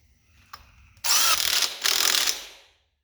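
An impact wrench runs a bolt into a 283 engine in a shop, starting with a faint click, then a loud rattling hammer burst lasting about a second and a half before stopping abruptly.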